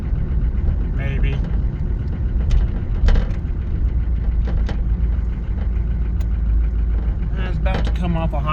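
A Buick diesel car engine holds a high idle while driving to town, a steady low rumble running throughout with brief passing noises above it.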